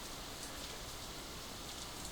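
Steady rain in a visual novel scene, a soft continuous hiss of falling drops at low volume with no other sounds or voices.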